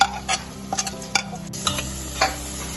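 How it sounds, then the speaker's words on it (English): Ginger garlic paste sautéing in hot oil over crispy fried onions for a mutton curry, a loud close sizzle with repeated scraping stirs and light ticks of a spoon against the pan. "This ginger garlic should be sauteed very nicely."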